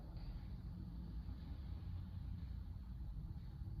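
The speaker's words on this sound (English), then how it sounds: "Gentle awareness of the sounds around you, traffic," Distant traffic makes a steady low rumble, a continuous even wash of road noise with no distinct passing vehicles.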